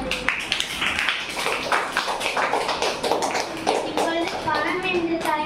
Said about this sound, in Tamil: அவர்களுக்கு ஒரு பலத்த கைத்தட்டல் தருமாறு கேட்டுக்கொள்கிறேன்